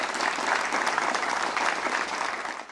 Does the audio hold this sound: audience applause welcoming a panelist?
yes